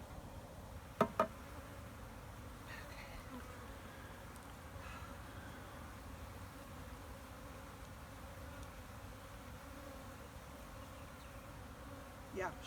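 Honeybees humming during installation of a package of bees, a faint steady low drone throughout, with a couple of brief clicks near the start.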